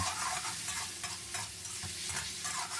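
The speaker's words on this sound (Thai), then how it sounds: "จากนั้นก็ผัดคลุกเคล้าให้เข้ากัน" Pickled mustard greens with minced pork, seasoned with oyster sauce, soy sauce and sugar, are stir-fried in a pan, giving a steady close sizzle with repeated scraping stirs throughout and no talk.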